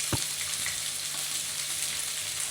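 Salmon cooking a la plancha in a pan, a dense, even sizzle running throughout with a faint clink near the start, close and steady.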